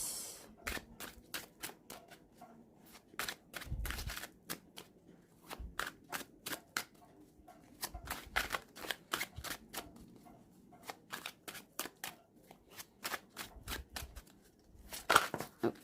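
Cards being shuffled and drawn during a tarot-style reading, a long run of crisp rapid riffles and flicks in quick bursts with short pauses, close up and alone with no talking.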